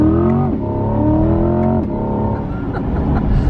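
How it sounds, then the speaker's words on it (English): A 2020 Chevrolet C8 Corvette accelerates hard with the engine up close and loud, its tone rising through the revs, dropping briefly at a gear change and then climbing again. "Hold on, let's get a little acceleration."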